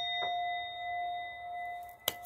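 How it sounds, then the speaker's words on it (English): A bright notification-style bell ding rings out with a sustained, clear tone, followed near the end by a second sharp metallic ding, alone and close. "Hit that bell."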